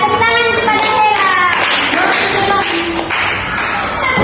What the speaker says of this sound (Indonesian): tepuk tangan kepada Tiara